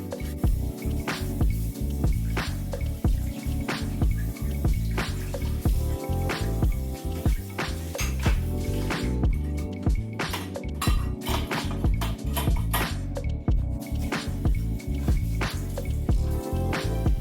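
Water drips and splashes against dishes and cutlery during household cleaning, with frequent clinks of plates and utensils in a steady, close, busy rhythm and no talking.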